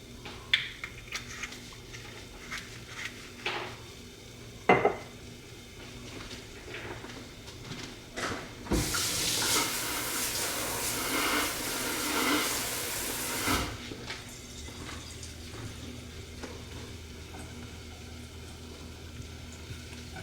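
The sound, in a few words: ground beef warming in olive oil in a pan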